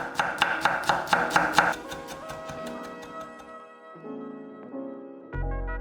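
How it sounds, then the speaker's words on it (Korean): A knife chops green onions on a cutting board. About a dozen quick, sharp strikes land in a steady rhythm, close and distinct, then fade into softer handling and clatter with no talking. "쪽파 5개는 4cm 길이로 썰고 굵은 머리 부위는 반을 갈라줬다."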